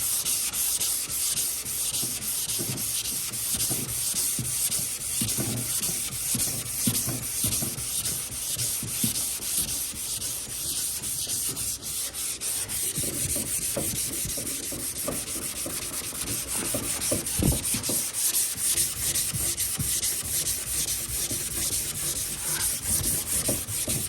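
A sanding block rubbed steadily across car bodywork in repeated crisscross strokes, a continuous close scratchy hiss with rhythmic pulses throughout and no talk.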